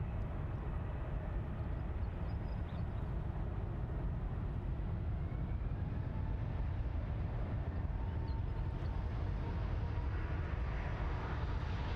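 An airplane on runway 34 right at Sydney Airport, a constant low roaring engine rumble heard from a distance, steady and unbroken throughout with no voices.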